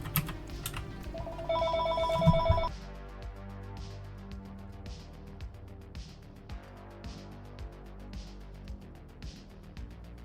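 A telephone rings in short electronic bursts for a couple of seconds early on, loud against steady game background sound and scattered keyboard clicks.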